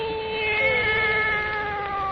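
A wise black cat meows in an old 1932 radio drama witch's tale, one long drawn-out wavering caterwaul, loud and close with a muffled broadcast quality.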